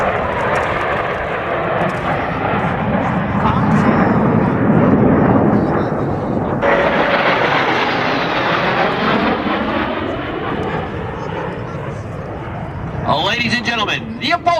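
U.S. Navy Blue Angels jets flying an opposing minimum radius turn at the 1997 MCAS El Toro air show: a loud, sustained jet roar that swells, sweeps in pitch as the aircraft cross, then fades, with an announcer talking over it.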